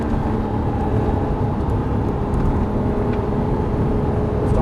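A Lamborghini Murciélago on the Las Vegas Motor Speedway track produces a steady, loud engine drone with a constant whirring tone heard from inside the car, with no talk.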